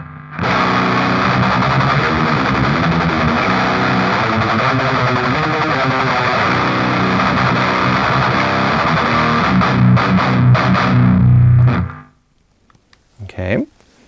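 Heavily distorted death metal guitar runs through a distortion pedal with the mids turned fully up, a dense, loud, continuous riff for about twelve seconds before stopping abruptly, followed by brief faint noises.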